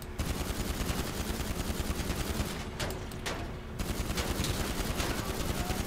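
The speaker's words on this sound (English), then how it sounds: "In your face with pistols." Rapid pistol gunfire in GTA 5 Online, a loud, continuous barrage of sharp cracking shots that runs almost nonstop, with a brief lull near the middle before the shooting resumes.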